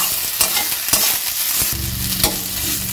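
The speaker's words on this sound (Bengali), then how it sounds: "খুন্তির সাহায্যে খুব ভালো করে নেড়েচেড়ে মিশিয়ে নিচ্ছি।" A spatula stirs spiced chop filling in a hot pan, with sharp scraping strokes every half second or so over a constant sizzle of frying, close and fairly loud.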